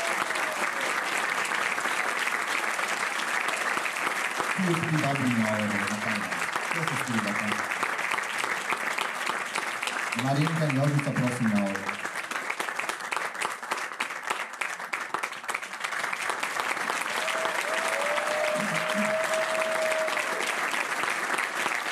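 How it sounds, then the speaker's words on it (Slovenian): Sustained audience applause at a theatre premiere in a hall, loud and continuous throughout, with a few voices speaking over the clapping at moments. "Prej pa še en aplavz za Jožico in Marinko."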